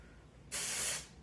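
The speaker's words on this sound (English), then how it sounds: "I like to take my dry shampoo, Death Valley, and I just come through" A can of Death Valley dry shampoo sprays onto hair roots in one steady, close hiss lasting about half a second, starting and stopping abruptly against a quiet room.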